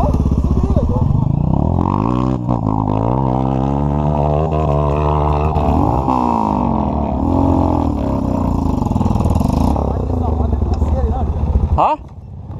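Husqvarna TE330 dirt bike with an XRE engine riding a trail near Guarapari, its engine loud and close with steady droning and shifting pitch as the rider changes gears, then dropping off sharply at the end.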